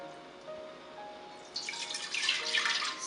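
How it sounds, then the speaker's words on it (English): Milk poured into a heavy-bottomed pan while making mango phirni: near-silence gives way to a steady, splashing liquid pour that fills the second half, close and moderately loud. "first step is to pour the milk into a heavy bottom pan"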